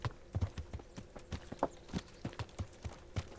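Horse hooves clip-clop in a quick, regular rhythm, crisp and fairly close, with no talking, in the video game Kingdom Come: Deliverance.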